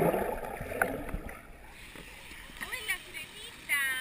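A child splashes as she dives into an outdoor swimming pool, a brief watery splatter and gurgle near the microphone, with voices talking around it.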